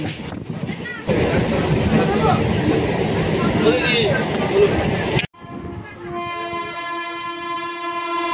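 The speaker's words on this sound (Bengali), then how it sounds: "এখন পাশ দিয়ে চলে যাচ্ছে 13152 জম্বুতরাই কলকাতা এক্সপ্রেস" The 13152 Jammu Tawi–Kolkata Express roars past close alongside a moving local train, a loud rushing clatter of wagons that cuts off abruptly, followed by a sustained train horn, with talk in the background.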